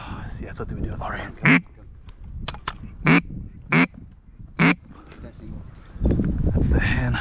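A mallard hen quacks in several short, loud, separate calls on a windy afternoon duck hunt in the marsh, with people talking between the calls and wind noise underneath.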